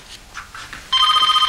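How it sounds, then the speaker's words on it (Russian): A telephone rings indoors in a bright, rapid electronic trill that starts partway through and continues steadily and loudly, after a few faint soft clicks. "Подойди к телефону."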